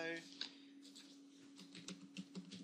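Keys tapped on a computer keyboard while a database name is entered, a short run of light clicks clustering toward the end, close and fairly quiet, with faint talk in the background.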